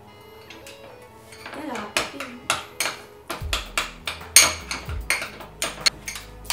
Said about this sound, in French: Et on va tout mélanger ça.